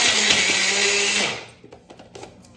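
A mixer grinder whirs loudly as it grinds batter for potato dabda bhajiya, running steadily for over a second before cutting off, leaving faint kitchen clatter and small knocks behind.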